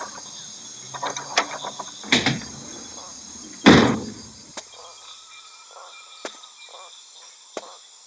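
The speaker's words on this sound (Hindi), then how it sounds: "मैं चल के दरवाजा खोलता हूँ।" A door is opened with a few sharp mechanical clicks and rattles from the latch and handle, then a louder creaking thud, followed by scattered small knocks in an otherwise quiet room.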